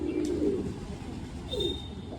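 Salara pigeons cooing close by, with a few soft, rolling coos rising and falling over a low steady background hum.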